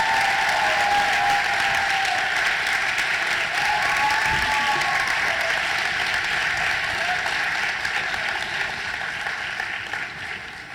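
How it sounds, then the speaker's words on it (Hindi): An audience applauds loudly and continuously after a grade 8 school musical play, a dense, steady wash of clapping from a large crowd that holds for the whole stretch and thins slightly at the end. "आपकी जोरदार तालियों की आवाज से हमें यह पता चल ही गया है कि आपको हमारा कार्यक्रम बहुत अच्छा लगा।"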